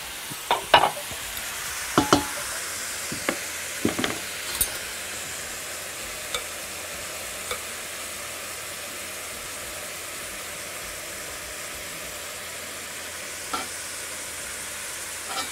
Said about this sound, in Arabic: هحط فصين ثوم كده وايه واقلبهم. بس عشان سخن الطاسه سخن قوي